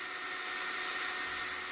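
A small drill bores steadily through a pre-drilled hole in a die-cast Lesney No. 47 1 Ton Trojan van model, giving a continuous close, fairly quiet high whirring hiss with no breaks.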